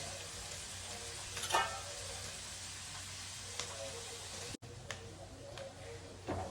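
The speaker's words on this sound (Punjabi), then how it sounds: "ਸਭ ਤੋਂ ਪਹਿਲਾਂ ਪਿਆਜ਼ ਭੁੰਨਾ ਹੈ ਥੋੜੇ ਜਿਹਾ ਬਰਾਊਨ ਹੋਣਗੇ ਪਿਆਜ਼" Onions frying in a pan until brown while cabbage sabzi is prepared, giving a steady low sizzle with a few brief stirring scrapes and clinks.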